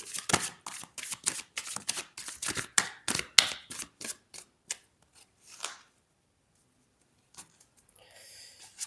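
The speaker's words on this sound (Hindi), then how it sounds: "शफल।" A deck of tarot cards shuffled by hand in repeated quick riffling bursts, close and fairly loud, then trailing off into near silence with a few soft card handling sounds at the end.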